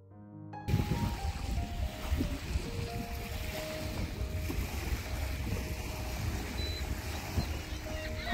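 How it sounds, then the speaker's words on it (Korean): Small waves lapping on a quiet lake shore beside a campground in Canada, heard as a soft, continuous low wash with gentle irregular swells and faint wind, steady and moderately quiet throughout. "조용한 호숫가에 파도 소리가 너무 좋아서 피크닉 테이블에 한참 앉아 있었습니다"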